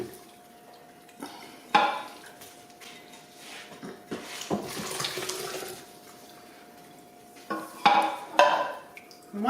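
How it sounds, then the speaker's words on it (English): Homemade chicken stock is scooped from a crock pot and poured through a strainer. The liquid splashes and trickles in separate pours, with quieter clinks of utensil and dish between them, heard up close. "you want to be able to scoop it out and then pour it in through the strainer"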